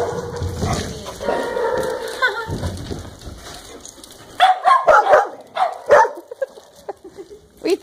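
Young pup barking indoors, a few short, sharp yips and barks in a quick cluster near the end, after a stretch of people talking and background shuffling.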